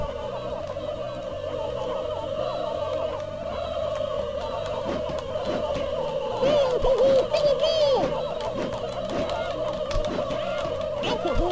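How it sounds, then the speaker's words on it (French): Chickens cluck and gobble in a dense, steady flock as they attack in the South Park Nintendo 64 game, with loud squawks swelling near the middle over a continuous game soundtrack. "Et ça, c'est les colonies de poules, man. C'est les poules attaquent."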